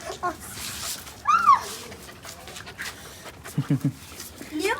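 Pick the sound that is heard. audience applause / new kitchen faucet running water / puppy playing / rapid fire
puppy playing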